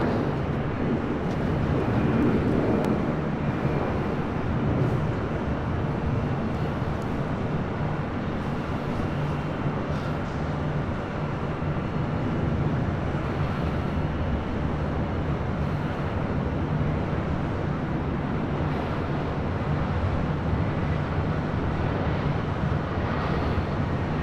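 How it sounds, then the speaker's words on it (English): A JetBlue Airways Airbus A320 in newer livery comes in to land at LAX on the north side, a steady, loud broadband jet roar that holds throughout with no voices. "Next arrival here on the north side, JetBlue Airways Flight 1731 coming in from Salt Lake City. It's an A320 in the newer livery."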